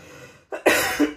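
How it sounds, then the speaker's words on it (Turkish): A person coughs twice in short, close bursts after a brief silence, the second cough louder and trailing off, during a talk about an illness that would not go away. "geçmek bilmeyen bir de öksürüğüm var"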